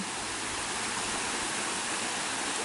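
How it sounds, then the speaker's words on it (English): A mountain waterfall cascades on the Armstrong Trail at Phillipston, a steady, loud, broadband rush of falling water heard up close with no break. "There's a lot of these falls cascading off the mountain."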